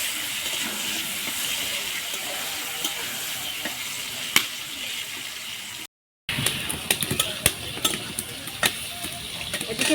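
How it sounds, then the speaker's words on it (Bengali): Slices of brinjal fry in hot oil for a Bengali tangra fish curry, giving a steady close sizzle and hiss broken by sharp pops and crackles, with one brief drop to silence partway through. "বেগুন ভেজে নিব।"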